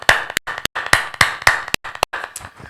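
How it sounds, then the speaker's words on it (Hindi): Hand clapping during a Hindi online church service, a quick, slightly uneven run of sharp claps heard close up, ringing with a little room echo. "एक अच्छी ताली के साथ हम परमेश्वर को धन्यवाद देंगे।"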